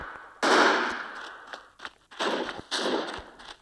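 Loud gunfire in the shooter video game Special Force Group 2: a sharp burst opening a sustained volley, then several more rapid bursts and single cracks, close and dominant with no talking.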